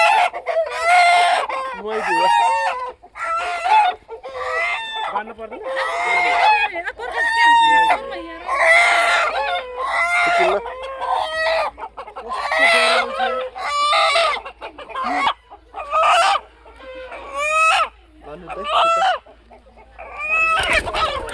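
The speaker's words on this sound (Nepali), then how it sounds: "ओ कुखुरा त" Chickens cluck and a rooster crows in loud, close bursts again and again, with calls separated by short pauses and voices occasionally talking nearby.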